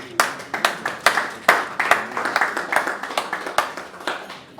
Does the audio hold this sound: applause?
yes